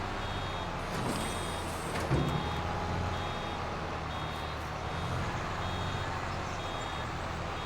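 Vehicle reversing alarm in Farming Simulator 22, a steady evenly spaced beep-beep repeating over a low engine rumble, with no talking.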